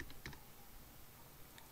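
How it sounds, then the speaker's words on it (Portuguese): A single key press on a computer keyboard during an After Effects tutorial: one brief, close click near the start, then near silence, with a faint second tap near the end. "Você vai pressionar F de faca do seu teclado."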